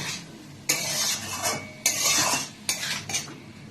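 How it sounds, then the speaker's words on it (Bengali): A metal spoon scrapes and clatters against a pan while tomatoes are stirred and fried for egg curry, three separate bursts of stirring with quieter gaps between them, close up and alone. "সব টমেটোটাই আমি দিয়ে বেশ ভালোভাবে কষিয়ে নেব"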